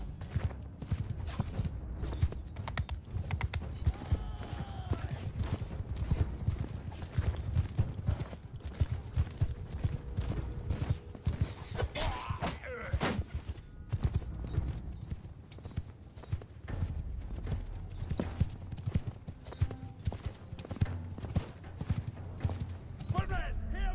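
Galloping horse hooves in a Mount and Blade 2: Bannerlord battle, a steady rapid clip-clop running throughout under a dense mix of game battle noise, with occasional whinnies and a voice talking over it.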